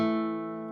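A short clean guitar dyad a fourth apart struck once, its two notes ringing together and fading gradually over under a second.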